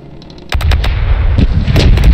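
Ship cannons fire a broadside in the naval combat of the Corsairs Legacy pirate game, a burst of loud, booming shots, several in quick succession followed by more irregular blasts over a low rumbling tail.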